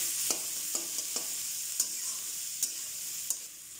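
Sliced onions fry in a pan for Kerala kothu porotta, a soft steady sizzle with a few distinct stirring taps spaced about half a second apart, quiet and close, no voices.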